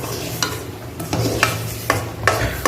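Gram flour stirred and sautéed in ghee in a pan for a sweet, with a steady soft sizzle and a spoon scraping the pan every half second or so, close up and with no voices.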